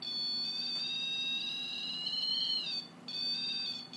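A REM pod paranormal detector sounds a loud, steady high-pitched electronic alarm tone continuously, with a brief dip near the end before resuming.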